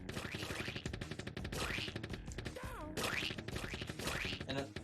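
Gunfire from amoeba enemies in Earthworm Jim HD on Xbox One, a dense run of rapid, repeated shots over busy game music, loud and continuous with short pauses, and occasional sliding effects.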